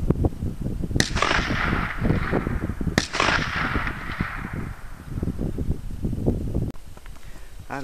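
Two sharp AK rifle shots fired at a distant target crack out about two seconds apart, each leaving a brief outdoor echo, with wind and handling noise in between.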